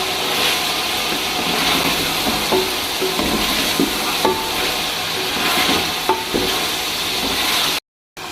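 Whole spices and chopped tomatoes sizzling in a vegetable pulao pot, a steady close frying hiss with scattered scrapes and clinks of stirring, cutting off briefly at the end.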